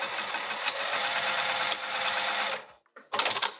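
A sewing machine runs steadily while stitching a bag seam with piping, a close mechanical whir that stops briefly and then resumes in a short burst.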